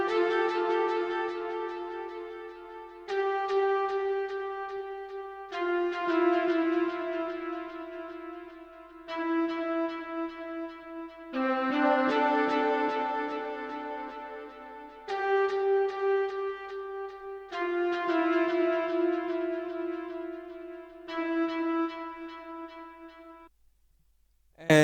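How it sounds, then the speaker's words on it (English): Two layered synth leads, one from Zenology and one from Purity, play a sustained, bright melodic line in phrases of held notes with short gaps, steady and loud with no voices. "I started it off by adding two synth leads, one from Zenology and another from Purity."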